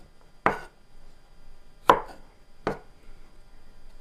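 Knife chopping vegetables finely on a board for a wild yam casserole: three separate, distinct chops spaced about a second apart, close and clear with no talking.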